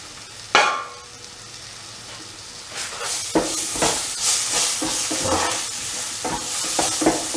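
Tomatoes frying with spices in a pan for a pumpkin and minced mutton stew, a loud hissing sizzle that swells after a sharp initial clatter, broken by repeated stirring scrapes and knocks, near and without speech.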